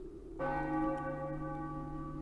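A bell in Final Fantasy 9 strikes once and rings on with a long, steady, sustained tone, close and clear, with no voices over it.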